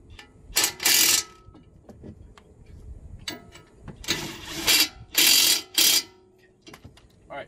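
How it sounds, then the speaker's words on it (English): Impact wrench snugging up the wheel bolts on a 2013 Audi A4 during a front rotor and brake job: short, loud, rattling bursts of hammering, a couple near the start and several more later, with quieter clicks between. "I'm just going to snug them up with the impact right now."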